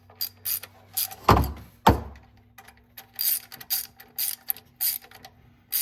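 A ratchet wrench snugs the thermostat housing bolts on a 2014 GMC Sierra, with quick clicking bursts between two heavy metallic clunks, all close up.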